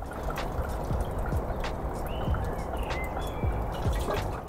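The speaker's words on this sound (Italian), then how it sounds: "Abbiamo flussi d'acqua su tutti i buchi." Water from a pump-driven irrigation setup on a terrace vegetable garden trickles and splashes from holes in the pipe, a soft continuous gurgle with scattered drips, fairly quiet against background noise.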